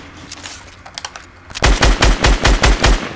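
Rapid automatic gunfire in the Fortnite battle royale video game, a few scattered quieter shots at first, then a loud sustained burst of evenly spaced heavy bangs in the second half, with no talk.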